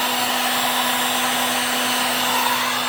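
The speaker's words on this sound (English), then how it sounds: "you could melt it with this heat gun" A heat gun blows steadily and loudly at close range, heating a plastic plug during drywall-stage work in a mini barndominium, an unbroken airy roar with a constant hum and no talk.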